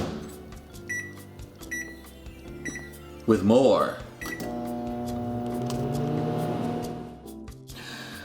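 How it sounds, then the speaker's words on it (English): A microwave oven heating spicy pesto sausage ravioli hums steadily and then finishes, with a brief clatter midway and someone talking over it. "so the microwave just went off"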